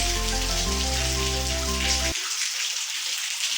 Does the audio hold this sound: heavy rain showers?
yes